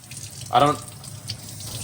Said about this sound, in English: you just want to run it under some water, give it a good rub